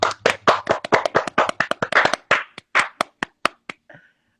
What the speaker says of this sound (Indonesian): Kita tepuk tangan dulu untuk kehadiran Mas Agung.